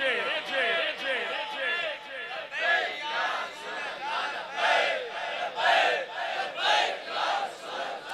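A large crowd chanting the Labbaik slogan in unison during a religious gathering, loud rhythmic rising-and-falling shouts repeating in waves, voices massed together and echoing.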